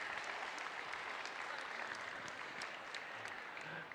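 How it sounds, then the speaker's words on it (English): A crowd at a San Diego district robotics competition applauds the sponsor Qualcomm, steady continuous clapping heard from a distance, fairly even in level with no speech over it. "let's give a huge round of applause for Qualcomm"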